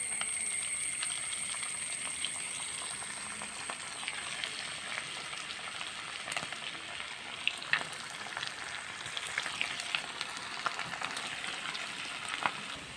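Leftover rice pakoda pieces frying in hot oil, a steady close crackling sizzle with scattered pops and bubbling throughout, no voices.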